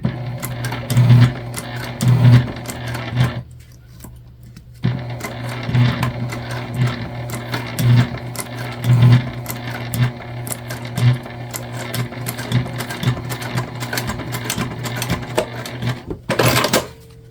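A sewing machine stitches down the sides of a small cross-body bag in steady bursts of rapid mechanical stitching, pausing briefly around the middle, then resuming with a sharper clatter near the end.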